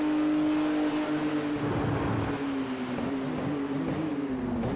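A GT race car engine in the iRacing video game drones steadily at high revs at the Red Bull Ring, its pitch wavering slightly and dipping a little near the end, with no speech.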